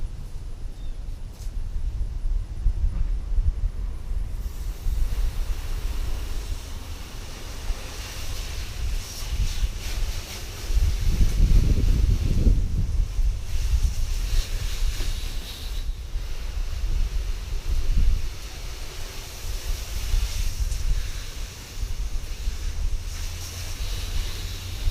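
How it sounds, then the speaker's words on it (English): A garden hose sprays water over the seals and corners of a TonnoPro tri-fold truck bed cover, a loud, steady close hiss and rush with wind-like buffeting that swells midway. "I'm going to spray the top with the hose on all the seals and all around all the corners"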